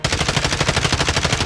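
Rapid automatic gunfire in a video game, a loud close burst of evenly spaced shots firing continuously with no pauses.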